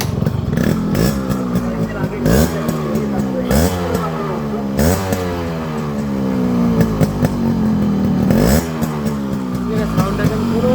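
A fresh-condition Yamaha RX 100 motorcycle revs hard up close, its engine note climbing and dropping in repeated bursts, loud and rough throughout.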